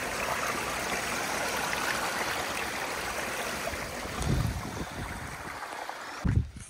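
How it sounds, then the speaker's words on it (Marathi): A stream of monsoon water runs through village fields in the Konkan, a steady broadband rush that stays close and constant, with a few brief knocks near the end. "हे अजून एक पाण्याचा झरा, हे जे की मळ्यांमधलं जे पाणी आहे ते मस्तपैकी इथून वाहत असतं."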